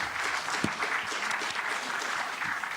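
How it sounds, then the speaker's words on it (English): A conference audience gives the speakers on food-system cost accounting a steady round of clapping, a dense, even patter heard from within the hall. "I'd like to give a big round of applause for all our speakers today."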